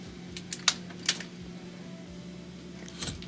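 A flat-head screwdriver pries the motor clips off a washing machine that hums but will not spin, giving a few sharp metallic clicks and snaps close by over a low steady hum.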